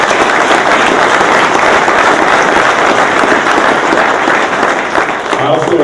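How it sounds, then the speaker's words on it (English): Sustained applause from a crowd at a golf association's annual meeting as award winners are honored, a full steady roar of clapping lasting several seconds at even loudness, with a few voices faintly mixed in. "A round of applause for all of them."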